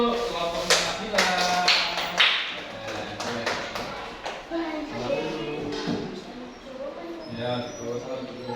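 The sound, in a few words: applause for Nabila's group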